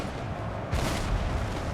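Cannon artillery fire in the Napoleon: Total War video game, a sudden loud boom that breaks over a constant background rumble and then rolls on as a broad, sustained roar.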